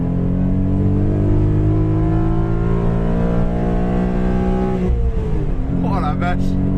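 A Renault Clio V6 revs and accelerates, a loud close engine note rising steadily in pitch before easing off near the end, with a voice speaking briefly under the engine.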